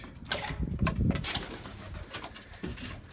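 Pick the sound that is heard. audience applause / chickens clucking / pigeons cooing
pigeons cooing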